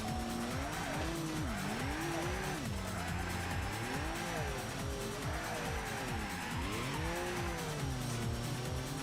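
An 800-horsepower race car slides around a tight mountain road in Assetto Corsa, its engine revving hard and rising and falling while the tires squeal continuously, loud and unbroken throughout.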